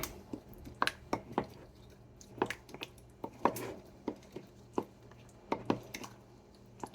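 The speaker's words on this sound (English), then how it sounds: "And we are going to stir, stir, stir." A spoon stirs spicy kale wrap filling mixed with yogurt, making irregular wet squelches and soft clicks against the bowl, close and fairly loud.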